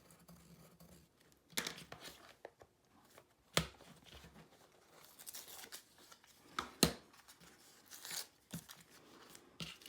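Scissors cut paper while a Ouija planchette is being made, giving intermittent close snips, crisp tearing and rustling bursts with quiet gaps between them and no talking.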